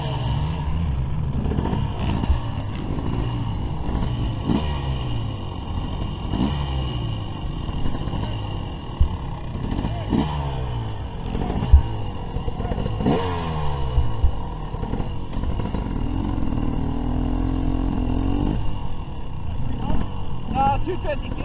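A 2023 Husqvarna TC250 fuel-injected motorcycle on a test ride, its engine revving and rising in repeated pitch sweeps as it accelerates and shifts, with steady rumble and clatter throughout at close range.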